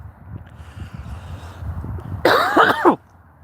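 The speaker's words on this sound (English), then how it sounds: "I apologize for the coughs." One loud, harsh cough bursts out near the end, following a stretch of quiet low background noise.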